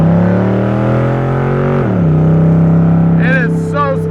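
A 1965 Shelby Cobra Factory Five replica's engine accelerates as a loud, close, steady harmonic drone whose pitch drops at a gear change, with a brief voice heard near the end.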